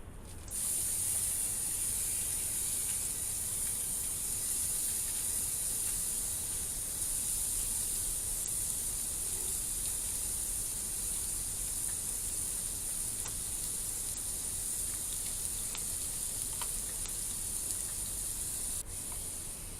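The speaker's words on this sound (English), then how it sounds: "A little bit of bacon fat. Throw in a pound of ground beef." A pound of ground beef sizzles steadily in bacon fat in a pan, a constant close hiss and crackle holding level throughout with no pauses and no talking.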